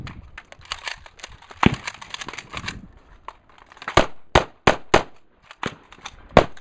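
Century VZ58 rifle shots fire in a fast series of sharp, loud cracks, with four or five quick shots close together near the end after quieter handling and shuffling noises.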